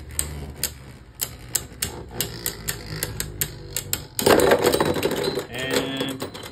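Beyblade Burst tops, a TT Vanish Fafnir against a Hasbro Vanish Fafnir, clash in a plastic stadium with rapid sharp clicking collisions, then a louder burst of scraping and rattling near the end.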